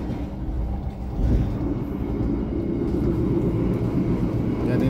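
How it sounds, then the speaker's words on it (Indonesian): The Pandalungan passenger train passes through Wonokromo junction near Surabaya, a steady low rumble of wheels and carriage noise heard from on board. No voices are heard. "Kereta api Pandalungan melintas percabangan Wonokromo."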